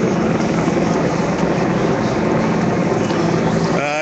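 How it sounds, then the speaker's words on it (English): A police helicopter hovering over a May Day march, its steady rotor drone filling the whole stretch at constant loudness, close and continuous with no talk over it. "that might be a police helicopter hanging overhead to keep tabs on the direction of the march"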